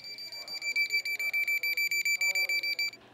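Hidden alarm clocks set off around a room as a prank, sounding as a steady, rapid run of loud electronic beeps that stops abruptly near the end.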